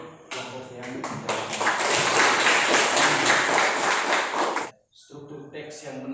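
A classroom of students claps for a group for several seconds in a full, steady burst, then stops abruptly before talk resumes.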